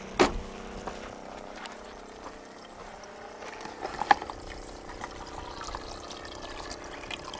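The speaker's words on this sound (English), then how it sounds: "Pump's running." An RV water pump hums steadily while water trickles and gurgles through a filter into the fresh water tank, with a few soft knocks and clicks over the low continuous flow.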